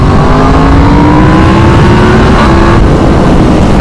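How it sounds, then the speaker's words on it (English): Yamaha MT-10 motorcycle engine with the exhaust baffle fitted, revving hard and steady with a slowly climbing pitch, loud and close throughout, with no other voices. "The bike sounds absolutely amazing. It really does sound great."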